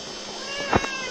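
A single short cat meow rises near the end, close and clear, over a faint steady hum.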